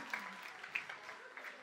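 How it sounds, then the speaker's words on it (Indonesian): A church congregation claps together in brief, steady applause at the end of a sermon, with the sound fairly soft and a bit distant as it fills the room. "Tuhan berkati tepuk tangan yang meriah untuk kemuliaan nama Tuhan"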